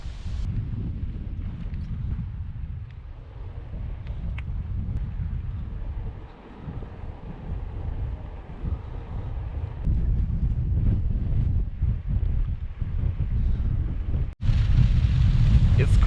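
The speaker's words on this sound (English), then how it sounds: "It's quite windy up here," Wind buffets the microphone in a low, rumbling roar that swells and eases over time, growing stronger toward the end, near a dam on a gravel cycling route.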